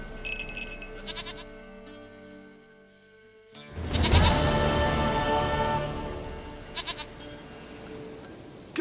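A goat in The Witcher 3 bleats several times, a nasal wavering cry heard near and fairly clear, then gives way to a louder rustling, clattering ambient stretch before a few more short bleats.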